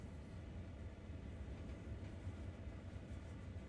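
A locomotive in the Train Sim World 2 game on the Sand Patch Grade route backs up slowly, giving a steady low rumble of rolling wagons and engine with no talk over it.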